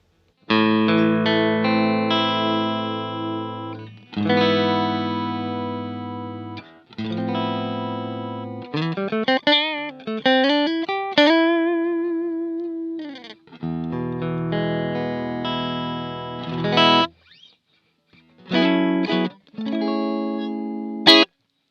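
Electric guitar through a BluGuitar AMP1 clean channel on its Modern Sparkling setting, recorded direct, playing sustained chords and a few bending lead notes, bright and clear with a touch of shimmer, pausing briefly between phrases.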